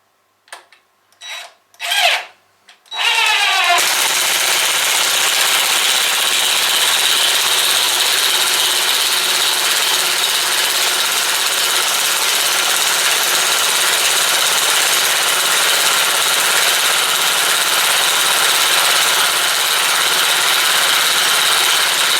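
A Ryobi R18IW3-0 18V cordless impact wrench removes a screw. A few short clicks and bursts come first, then a loud, close, continuous hammering whir that runs without pause to the end.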